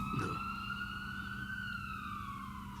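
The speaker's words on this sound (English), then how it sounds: "Oh, KG firing the siren." A soundboard siren effect wails continuously with a gliding, rising-and-falling tone, loud and steady from start to finish, with no talk over it.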